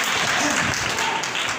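Audience at a church sermon applauding loudly and continuously, a dense wash of clapping throughout the short stretch.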